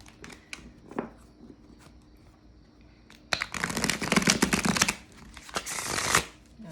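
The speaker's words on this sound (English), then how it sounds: "It shakes a little bit when I shuffle on the table." Tarot cards riffle and shuffle on a table: a few light taps first, then two long bursts of rapid flapping, close and fairly loud.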